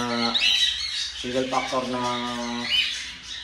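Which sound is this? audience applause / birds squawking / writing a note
birds squawking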